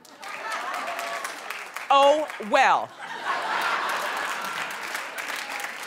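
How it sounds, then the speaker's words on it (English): Studio audience on a daytime talk show clapping steadily through most of the stretch, a broad continuous patter that dips briefly while a voice and a short laugh cut in near the middle. "clap if you think it seemed mean."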